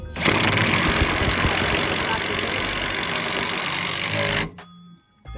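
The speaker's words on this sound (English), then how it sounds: "This is an impact cordless drill." A loud cordless impact drill whirs and rattles continuously for several seconds driving bolts to install a Front Runner Slimsport roof rack, then abruptly stops, leaving near quiet.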